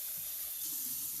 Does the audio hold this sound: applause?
no